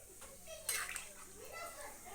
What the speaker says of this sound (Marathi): थोडंसं पाणी ओतू या हे बघा ठीक आहे हे पाणी ओतून हे शिजवून घेऊया